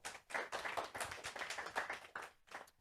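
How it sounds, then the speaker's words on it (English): A small group at a stakeholder meeting claps in a brief round of applause, the individual claps distinct and uneven, quiet and slightly distant, with no speech over them. "Let's give her a round of applause."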